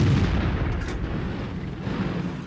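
A tank cannon fires a single loud, deep boom in a World of Tanks style battle, aimed at a T-34, and the rumble decays slowly.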